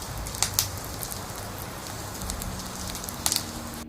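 A fire burning a creature in a horror audio drama, heard as a steady hiss and rush of flames with scattered sharp crackles and pops, moderately loud and continuous.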